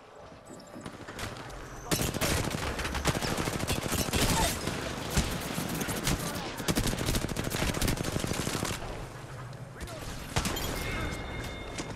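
Rapid automatic gunfire in the shooter game Apex Legends: loud sustained bursts of crackling shots over about ten seconds, with brief lulls, closer shots and game sounds mixed in.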